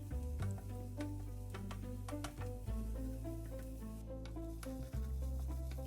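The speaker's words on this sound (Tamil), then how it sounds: "இஞ்சியும் உள்ளியும் சாப் செய்து வச்சிருக்கிறேன் அதை அப்படியே போட வேண்டும் எல்லாத்தையும் நன்றாக கிளறி எடுக்க வேண்டும்" Chopped ginger and garlic stir-fried with vegetables for a spaghetti dish give a soft, steady sizzle. Utensil clicks and scrapes tap through it at an even level, with no talking.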